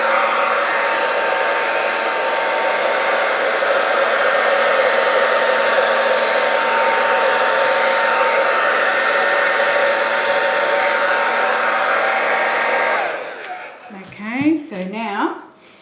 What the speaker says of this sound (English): I'm just going to put the hairdryer on again quickly.